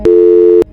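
A single steady telephone tone sounds right after a call is hung up, a loud, pure, unbroken beep lasting just over half a second with clicks at its start and end.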